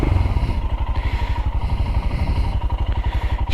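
A Royal Enfield Himalayan motorcycle starts up and settles into a loud, close single-cylinder idle, its steady rapid thumping pulses continuing throughout with no talking.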